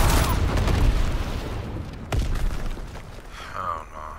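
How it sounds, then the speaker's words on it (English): Incendiary bombs detonate in Call of Duty WW2 as a dense, roaring rumble of blasts with a sharp burst midway, then a gradual fade while a voice speaks faintly. "Dropping incendiary."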